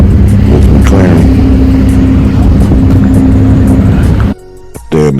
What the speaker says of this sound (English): This is Ryan's car with McLaren.